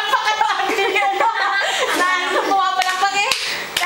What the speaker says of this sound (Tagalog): Pumapalakpak eh.